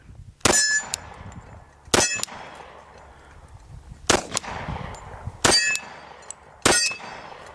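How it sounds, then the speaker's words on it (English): A Glock 41 pistol fires at steel target plates: five distinct, evenly spaced sharp metallic clangs, each ringing briefly after the impact, with the gunshots themselves faint or distant. "Starting out with the Glock 41, put a couple on steel. Start with that center plate."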